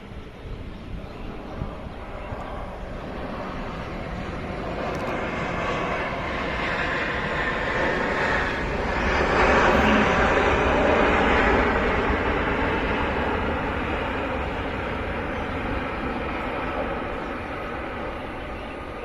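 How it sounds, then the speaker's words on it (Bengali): A Boeing 787 Dreamliner airliner approaches and lands on a runway at a plane-spotting area in Uttara, Dhaka, its distant engine roar swelling to a broad peak midway and then slowly fading, with no talking. "Boeing seven eight seven dream liner এই বিমানটি খুব চমৎকারভাবে এগিয়ে আসছে এবং রৌদ্রোজ্জ্বল চমৎকারভাবে আমরা রানওয়েতে বিমানটিকে ল্যান্ড করতে দেখতে পাচ্ছি"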